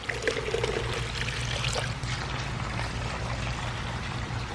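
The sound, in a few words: flushing water pouring out of hydroponic irrigation lines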